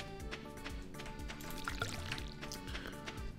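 Crops being watered in the farming game Stardew Valley, a steady run of watering-can pours and drips over a dense bed of background game music, with no talking.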